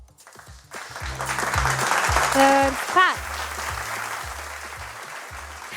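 Applause and cheering for a friend at a children's show, clapping steady throughout under a presenter's talk, with a short musical tone sequence midway.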